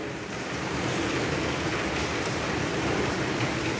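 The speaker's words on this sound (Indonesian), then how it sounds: "Suara sekarang kedabing suara hujan nggak ini? Udah turun hujan ini." Steady, dense rain pouring down outdoors during an evening religious study gathering, a loud continuous hiss with no breaks and no voices.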